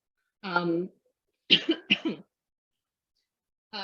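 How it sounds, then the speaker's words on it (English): A single harsh cough followed by a couple of quick throat-clearing bursts, close to the microphone, separated by short silences. "I'm just getting over a cough."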